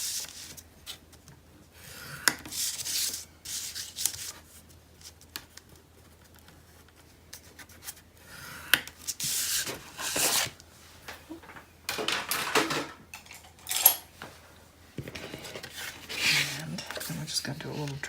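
Paper is scored on a scoreboard for a spring farmhouse craft project, giving quiet, close scratchy strokes in uneven bursts separated by near-silent gaps, with a few small taps and knocks.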